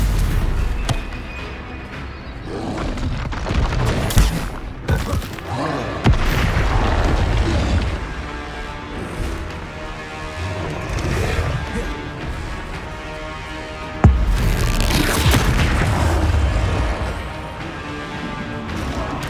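Repeated spell impacts in Hogwarts Legacy, including Stupefy, land as heavy booms and crashes with bursts of magical whooshing over game music, several hits spread across the stretch.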